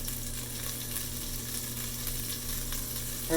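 Shrimp frying in a pan for salt and pepper shrimp, a steady, close sizzle that runs unbroken throughout with a small clink at the very end and no talking.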